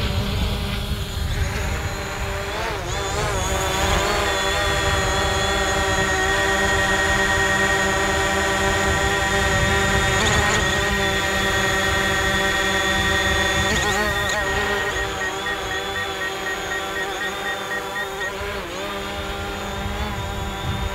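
A DJI Mavic Pro drone hovering close by, a loud, steady, high-pitched propeller whine with sustained tonal buzz and slight pitch shifts as it maneuvers, continuous throughout.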